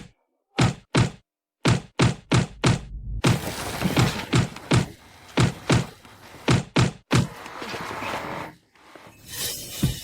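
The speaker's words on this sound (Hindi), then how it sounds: "लूपिंग की पिटाई हो रही है।" Someone is beaten with a quick series of heavy thuds and whacks, about a dozen dull punchy blows in uneven bursts, loud and close.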